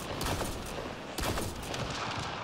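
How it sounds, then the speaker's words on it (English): A DMR semi-automatic rifle fires in Mass Effect Andromeda, a few rapid shots blurring into a dense, moderately quiet crackle over continuous game background noise. "Let's pop a few rounds off."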